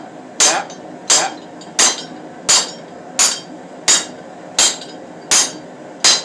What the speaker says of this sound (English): Now you rotate it, keep the hammer, tap, tap, tap.